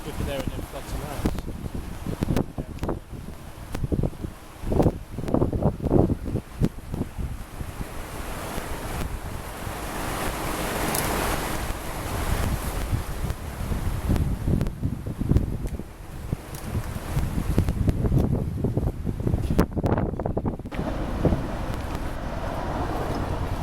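Thames floodwater rushes and surges at Chertsey during the 2014 floods, a loud continuous roar mixed with heavy wind buffeting the microphone and a voice talking underneath.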